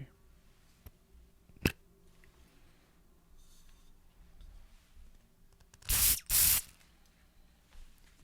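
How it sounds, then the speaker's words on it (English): A room spray bottle gives two quick, fine hissing bursts in close succession, with a soft sharp tap earlier and quiet handling noise around it. "You can definitely tell that this one is meant for a room because of how fine the spray is."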